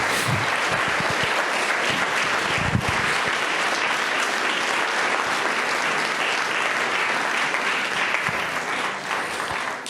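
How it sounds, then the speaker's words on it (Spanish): Sustained applause from a large church congregation fills the room, steady and loud for the whole stretch, with no voices standing out. "Den un aplauso al Señor."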